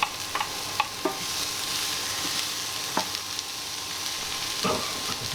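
Steady broadband sizzle of chopped onion frying in a pan with chicken drippings, with occasional scrapes and clicks of stirring, close and continuous with no talking.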